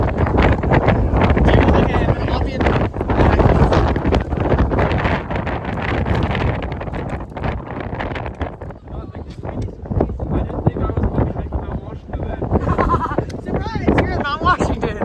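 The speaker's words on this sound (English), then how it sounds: "there are 40-mile-an-hour gusts and we're on the ledge of cliffs" Strong 40-mph wind gusts on a canyon cliff ledge batter the microphone with loud, continuous roaring and buffeting throughout, surging and easing but never dropping away.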